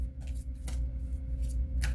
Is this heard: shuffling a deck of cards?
yes